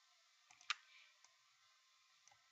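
A computer mouse double-click, with a few faint, sharp clicks in quiet surroundings, the loudest near the start.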